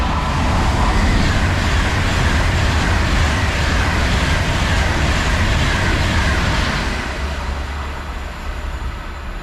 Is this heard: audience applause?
no